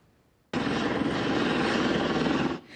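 A rescue helicopter airlifting an injured cow in the Alps of Valais, Switzerland, roars in abruptly and holds a loud, steady rotor and engine drone for about two seconds before cutting away.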